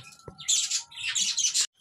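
Four budgerigar chicks in a breeding setup chirp in quick, high, bright bursts, close and fairly loud, with a short pause between two clusters of calls.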